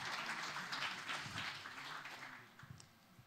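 A church congregation applauds during a Sunday service, a soft, dense patter of many hands clapping steadily before it thins out at the end.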